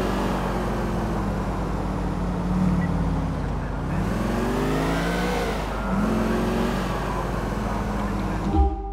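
A car engine driving in Grand Theft Auto IV, holding a steady droning hum that dips and rises as it shifts gears twice, close and continuous, ending with a small thump.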